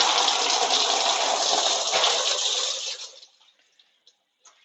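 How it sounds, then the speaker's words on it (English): Coolant gushes steadily out of a TYM T574 tractor's radiator for about three seconds, then tapers off to a few scattered drips, close up with no voices. "Let me take the radiator cap off so some will come out."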